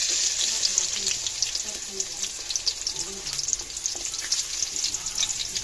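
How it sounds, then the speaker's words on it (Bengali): Chopped onions fry in hot oil in a home kitchen, giving a steady, fairly loud sizzle throughout with occasional soft stirring sounds and no talk. "পেঁয়াজটা ভালো করে একটু ভেজে নিব"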